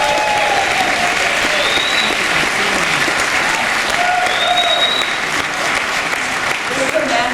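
An audience applauding at Jacque Fresco's centennial celebration, with loud, dense clapping sustained from start to finish and voices mixed in.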